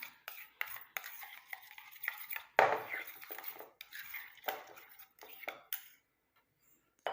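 A spoon stirring vitamin E capsule oil into a homemade face cream in a small bowl, making close, soft scraping and clinking strokes in an uneven rhythm, then stopping.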